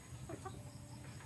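Chickens cluck softly in a few short bursts over a steady low background hum, faint and brief, with no talking.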